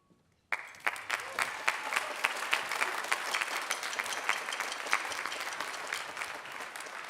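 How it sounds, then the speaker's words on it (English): An audience bursts into applause for the jazz band seniors at a high school jazz show, sudden and loud after a brief quiet, then sustained dense clapping with sharp individual claps standing out. "you can stand for one big round of applause for all of you"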